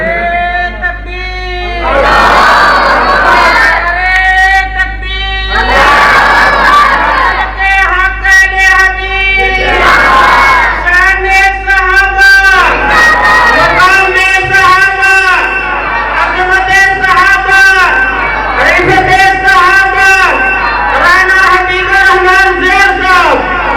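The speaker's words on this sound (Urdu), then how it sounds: "ذرا تکبیر دا نعرہ تے مرداں والا بجنا چاہیے نا" A large crowd at a religious gathering chants the Takbir slogan loudly in repeated call-and-response bursts, voices roaring together in rhythmic waves for the whole stretch.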